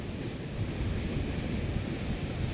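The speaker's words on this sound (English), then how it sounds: "What's this breaking over the rocks there" Strong Atlantic ocean waves crash over rocks on the coast at Porto Covo, making a steady, loud roar of surf and spray with wind buffeting the microphone throughout.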